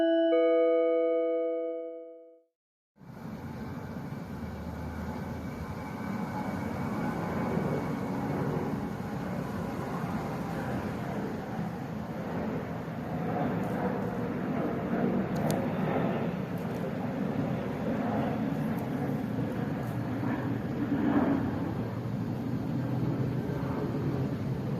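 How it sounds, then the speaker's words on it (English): An airplane drones overhead as a continuous low rumble lasting the whole stretch, steady and moderately loud, heard indoors in a library after a brief tone at the start. "You hear another airplane hovering over"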